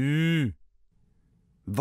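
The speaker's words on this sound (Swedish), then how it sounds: "En ko." A single drawn-out cow moo, loud and close, bending in pitch and lasting about half a second, followed by near silence and then a voice starting up.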